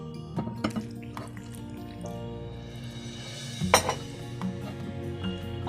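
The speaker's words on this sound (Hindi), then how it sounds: "पानी आहिस्ता आहिस्ता डालना है, एकदम सारा नहीं डालना।" Water trickles and drips into jalebi batter while it is stirred, with small wet squishes and occasional clinks of the utensil against the bowl, soft and close.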